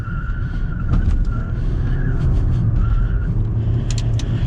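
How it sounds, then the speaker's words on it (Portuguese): A Toyota Corolla with worn tires corners hard at about 80 km/h, a thin tire squeal rising and fading over a steady, loud engine and road rumble heard from inside the car. "Então provavelmente muito desse barulho que você ouviu de pneu é por conta disso."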